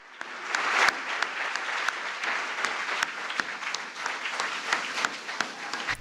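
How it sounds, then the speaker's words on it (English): Close applause clapped right into a microphone, sharp individual claps standing out over a dense, steady patter of hands for several seconds. "Clap right into the mic."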